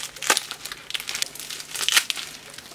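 A small mailed package bound in lots of tape being opened, with bursts of crinkling and tearing of tape and wrapping in short irregular bouts, close and moderately loud, with no talking.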